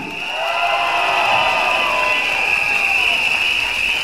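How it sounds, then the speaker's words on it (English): Political rally crowd for Ong Teng Koon of the PAP at Marsiling-Yew Tee, a loud sustained roar of applause and cheering that swells and holds. "A rousing applause for Mr. Ong Teng Koon. Louder, everyone, louder for the PAP."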